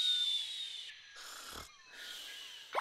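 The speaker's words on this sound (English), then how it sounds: "The snoring Caesar is also annoying." A cartoon character snores in a slow cycle of wheezy, whistling breaths with a low snort in the middle, close and clear with no talking.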